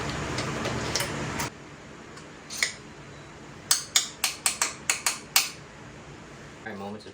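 Small metal clicks from a wrench loosening a fitting on a motorcycle carburetor, a quick run of about six sharp ticks close by, with a few scattered clinks before and a brief low rustle at the end.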